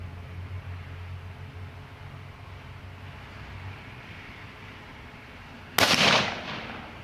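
A single sharp shot from a Rock Island Armory bolt-action rifle chambered in .22 TCM, fired outdoors at a 40-yard target, cracks out loud and alone after several seconds of quiet background noise, then its echo fades.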